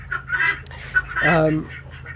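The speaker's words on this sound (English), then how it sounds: "No, just a chicken." A chicken clucks nearby, a few short throaty calls ending in a longer drawn-out cluck, heard alongside faint background murmur.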